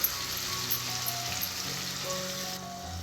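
Masala for egg dum biryani fries in a pan with a steady, close sizzle, faint hiss running throughout and a few brief pops near the start.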